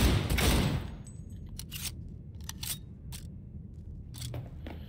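Gunfire from the video game Cyberpunk 2077, a loud burst at the start followed by several sharp, separate shots over a steady background rumble.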